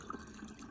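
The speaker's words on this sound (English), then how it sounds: "we're just gonna pour our watermelon juice right into our pitcher" Watermelon juice pours into a pitcher, a soft, quiet, continuous liquid trickle in a brief moment without speech.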